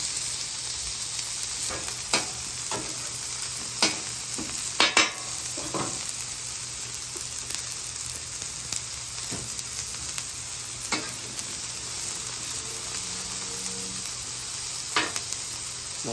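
Mushrooms and onions fry on a griddle for beef stroganoff, giving a steady, even sizzle throughout with scattered sharp pops and crackles and no talking.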